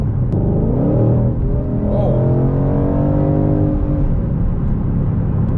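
A 2020 Shelby GT500 with its exhaust set to sport rumbles loudly up close, its pitch rising and swelling through a rev before settling back, with a brief exclamation from a voice.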